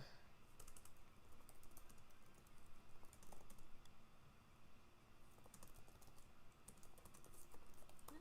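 Rapid keystrokes clatter on a computer keyboard in a steady, close stream of light clicks, with a few sharper taps standing out and no voices.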